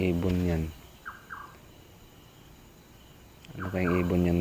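A bird calls at night from a coconut tree, a few short chirps at a distance between bursts of nearby speech.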